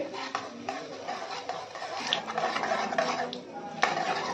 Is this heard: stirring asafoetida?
yes